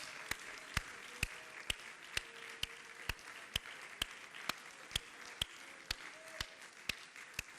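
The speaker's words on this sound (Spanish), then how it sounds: "Quiere darle las palmas al Señor." A church congregation at a Spanish-language worship service claps in a steady, evenly spaced rhythm, sharp distinct claps over a faint background.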